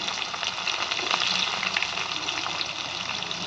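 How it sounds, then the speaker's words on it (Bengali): Onion fries in oil tempered with dried red chillies, bay leaves and whole cumin, making a dense, steady sizzle with light bubbling crackle, close and fairly loud, alone without speech. "পেঁয়াজটা লাল লাল করে ভেজে নেব"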